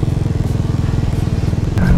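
A TVS Apache RR310 motorcycle with its dB killer removed idles close by, its exhaust thumping in a fast, even pulsing beat, then swelling briefly louder at the end.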